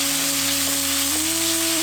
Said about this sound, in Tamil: இப்ப 250 கிராம் நறுக்கி வச்சிருந்த பெரிய வெங்காயத்தை சேர்த்து நல்லா வதக்க ஆரம்பிச்சிருவோம்